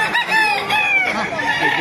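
A rooster at a market crows loudly and close by in one long, wavering call, with clucking fowl mixed in.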